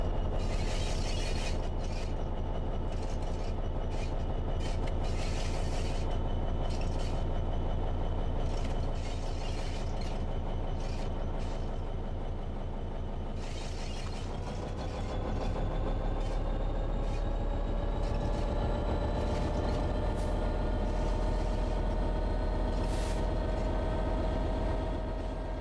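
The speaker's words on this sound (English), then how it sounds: "God, I love the sound of that engine." A locomotive engine in the Train Sim World 6 simulator rumbles steadily with a deep low drone, rail-like rattles and shifting tonal whine for the whole stretch, loud and close with no talking.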